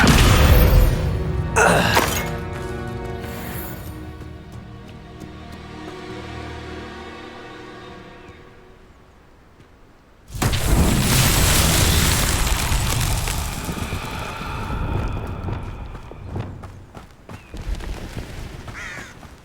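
In the video game Hogwarts Legacy, a Confringo blasting curse goes off as a sharp, booming explosion that rings out and fades, followed about ten seconds later by a second loud burst of crackling blast noise.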